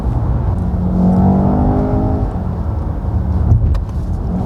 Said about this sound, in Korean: 좀 타이트한 수준의 코너를 한번 들어가 보도록 하겠습니다